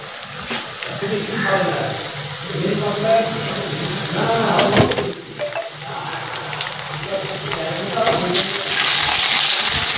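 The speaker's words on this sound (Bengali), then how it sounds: "এবার এটা আমি একটু ভালো করে ভেজে নেব" Onion and capsicum frying in a pan for a roadside dhaba-style chicken dish, a steady close sizzle with occasional stirring, under intermittent talking.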